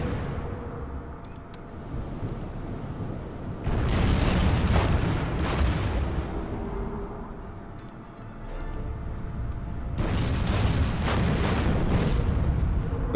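Capital ships' main guns boom in a naval battle in the strategy game Order of Battle, two heavy sustained blasts separated by a quieter rumbling lull, with faint ticking clicks in between.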